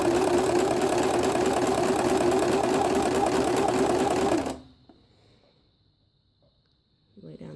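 A sewing machine runs continuously for several seconds, stitching boning along a seam with a fast, steady mechanical whir, then stops abruptly, leaving quiet with a brief rustle at the end.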